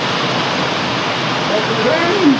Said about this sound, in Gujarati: ધીરે ધારે વરસાદ ચાલુ કર્યું હે